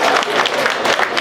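A crowd at a party joining event in a BJP office breaks into brisk, continuous clapping, dense and close for about a second.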